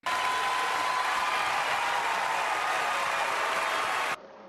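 Loud, dense cheering and clapping from an awards ceremony audience in a theater, a sustained wash of applause that cuts off abruptly near the end.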